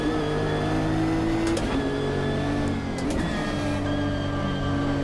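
GT3 race car engine in the Automobilista 2 racing game on the Nordschleife endurance layout, a steady droning whine with sustained harmonic tones and brief shifts in pitch, continuous and fairly loud.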